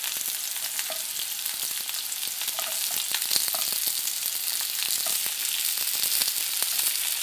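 Sliced zucchini frying in a pan with spring onion and crushed garlic, a steady bright sizzle with small crackles and pops throughout, close and continuous with no talking.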